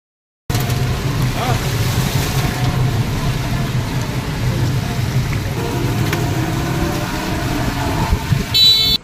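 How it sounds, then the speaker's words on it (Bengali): A train rumbles past outdoors in heavy, steady rain: a dense, even wash of rainfall over a low, continuous rolling rumble that holds for the whole stretch. "বাইরে দেখছি তুমুল বৃষ্টি, আর সাথে এখন ট্রেন যাচ্ছে"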